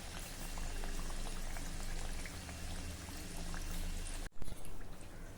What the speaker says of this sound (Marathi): मध्यम ते मंद आचेवर आपल्याला ह्या कचोऱ्या छान खरपूस होईपर्यंत तळायच्या आहे